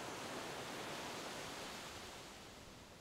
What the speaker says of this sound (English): A comforting white noise